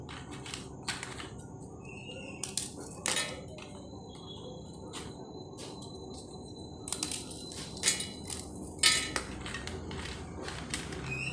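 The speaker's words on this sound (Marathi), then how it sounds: "आपण ते मिक्सरमधून बारीक काढून घेऊया" Loud continuous grinding and crushing from a mixer grinder breaking up cream biscuits, with sharp rattling bursts as hard pieces break up inside the jar.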